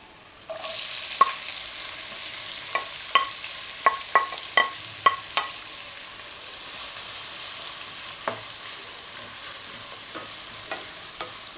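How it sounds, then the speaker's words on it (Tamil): Chopped onions fry in a pan for gongura chicken, a steady close sizzle broken by sharp spatula taps and scrapes against the pan in a quick cluster, then sparser. "வெங்காயம் நல்லா கோல்டன் ப்ரௌன் வர்ற வரைக்கும் நம்ம வதக்கிக்கணும்"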